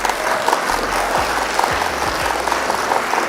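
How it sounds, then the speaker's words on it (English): Applause from a small live audience at a Flesh and Blood trading card game event, steady dense clapping throughout with low rumbling noise underneath. "Round of applause for them."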